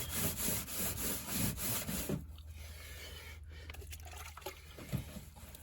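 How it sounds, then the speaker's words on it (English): A cooktop cleaner is scrubbed against rust stains on a mobile home surface with rapid, rhythmic back-and-forth rubbing, close and fairly loud for about two seconds, then gives way to quieter scattered rubbing and handling sounds. "it looks like it's just a matter of us scrubbing the crap out of it"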